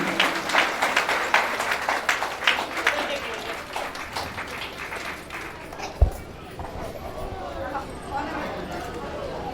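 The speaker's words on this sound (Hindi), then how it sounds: "इसके लिए जोरदार से तालियों से स्वागत कीजिए" A crowd applauds to welcome a guest at a company foundation day celebration in India, dense clapping that fades after a few seconds, followed by a single sharp knock, while someone speaks over it.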